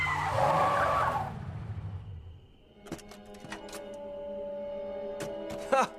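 A cartoon tractor skids with a loud, harsh screech lasting over a second. The screech fades, and a sparse series of sharp clattering clicks and pops follows against a quiet background.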